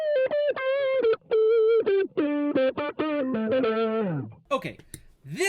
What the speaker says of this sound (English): this is not a sound I would ever expect to get from a delay pedal